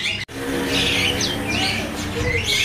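Small caged birds at a bird market kiosk chirp and tweet in quick, bright overlapping calls, close and lively, with faint traffic rumbling underneath.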